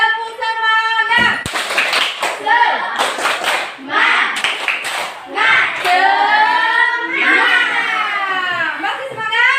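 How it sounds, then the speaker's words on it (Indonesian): A classroom of students performs a rhythmic spirit clap, sharp hand claps in quick patterned bursts mixed with loud chanting and young voices speaking along. "Kita tepuk semangat ya."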